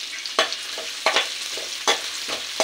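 Ginger and shallots frying in a pan for vegetable egg fried rice, with a steady sizzle broken by several sharp scraping stirs at irregular intervals, close and moderately loud.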